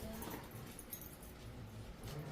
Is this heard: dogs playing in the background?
yes